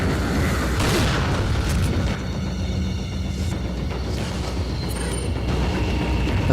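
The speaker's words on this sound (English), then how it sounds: "but the hand grenade should work" A hand grenade goes off in Resident Evil 4 HD, a loud, heavy booming blast followed by a sustained rumbling, mechanical roar that stays loud throughout with no voices.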